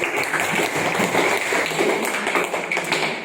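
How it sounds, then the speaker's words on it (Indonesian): Dense, steady clapping from a classroom of students applauding a presenting group, loud and close throughout with no voices over it. "tepuk tangan untuk kelompok"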